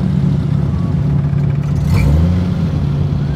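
A car engine runs with a loud, steady low rumble that rises briefly partway through, like a short rev, and stays close and constant.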